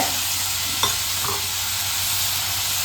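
Ginger, dried red chillies, peppercorns and cinnamon frying in a pan, giving a steady close sizzle with a couple of faint stirring clicks and no voices.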